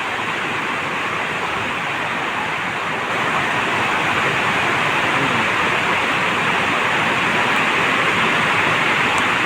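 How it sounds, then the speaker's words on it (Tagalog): Heavy rain pours down outside NAIA Terminal 1 in Manila, a loud, unbroken wash of broadband hiss that stays constant and grows slightly stronger partway through. "Talagang buhos yung ulan"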